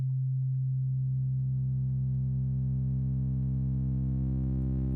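A distorted sine wave synth tone from the Helm synthesizer holds one low, sustained note with a buzzy edge. It starts abruptly and stays steady and loud, with its rough upper harmonics slowly brightening.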